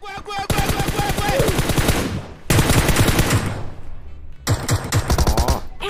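Rapid automatic gunfire in PUBG Mobile during a match on the Miramar map, with loud, dense bursts separated by brief pauses, close and continuous.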